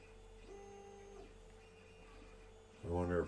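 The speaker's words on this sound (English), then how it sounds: "It's my 3D printer messing with my camera." A 3D printer runs nearby with steady tonal stepper-motor whines that shift pitch as the head moves, layered over a constant hum, before a person starts talking at the end.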